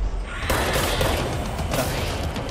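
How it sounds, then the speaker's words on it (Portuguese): A loud explosion in the video game Control sets off a continuous roar of booming blasts and crashing debris, sustained and dense from start to finish. "a explosão matou o outro"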